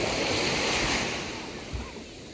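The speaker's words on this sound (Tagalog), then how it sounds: "Di ba't ba malakas ang alon rito?" Strong surf washes onto Lazuli Beach in Quezon, a loud broad hiss of breaking waves with wind noise, fading slightly as the wash recedes.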